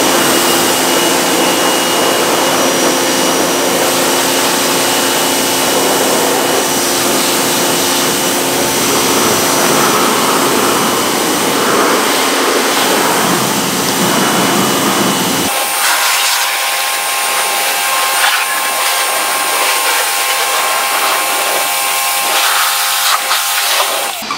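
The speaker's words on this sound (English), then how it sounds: "So let's go ahead and rinse it off." Pressure washer spray rinsing a car engine bay, a loud continuous hiss of water striking metal and plastic, shifting in tone partway through as the spray moves, with no talking.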